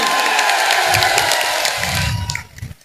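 A crowd at a Congress party gathering claps and cheers loudly for a leader arriving at a nomination filing. Dense applause and shouting fill the space, then fade out quickly at the end.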